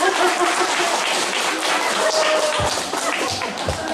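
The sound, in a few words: audience applause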